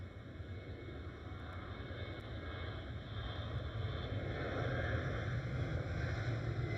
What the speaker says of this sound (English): do hear an aircraft speeding down the runway